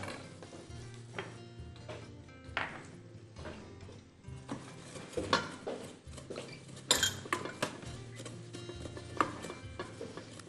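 Flour being stirred into a small amount of oil in a pan, with close, irregular scraping and clinking of a utensil against metal, quiet between strokes.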